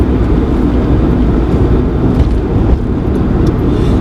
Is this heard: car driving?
yes